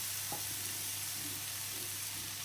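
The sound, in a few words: tofu frying in a pan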